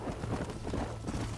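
Galloping horse hooves from Red Dead Redemption, a steady rapid clip-clop that runs throughout, fairly close and unbroken, with no talk over it.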